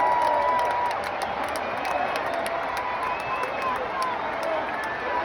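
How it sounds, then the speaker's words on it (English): A packed stadium crowd at a Lambeau Field football game roars continuously in the closing seconds, a loud, sustained wall of cheering and yelling with no break. "Crowd is crazy."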